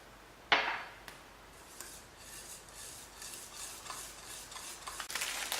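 Cake batter with lemon zest and lemon juice being mixed in a bowl, a sharp clack of the utensil followed by repeated rhythmic scraping and rubbing strokes, close and steady, quickening toward the end.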